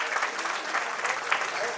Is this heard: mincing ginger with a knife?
no